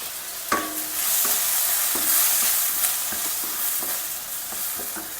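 Curry leaves and a small chopped potato fry in hot oil, a loud continuous sizzle broken by repeated clinks and scrapes of a spatula stirring the pan.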